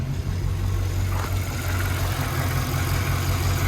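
A Toyota Tacoma fitted with a 6.2-litre LS3 V8 and MBR exhaust idles nearby, a deep, steady rumbling drone with a constant low throb and no voices.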